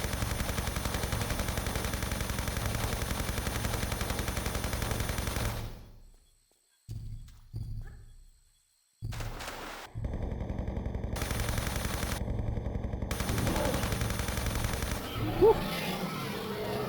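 In the video game Tomb Raider III, Uzi fire sounds as dense rapid bursts that stop and start, broken by abrupt silent gaps, and then a sustained rattling stretch, loud and close with no talking.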